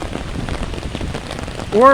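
Steady rain pattering on surfaces outdoors in Saigon fills the whole stretch with dense, even hiss, and a voice briefly speaks near the end.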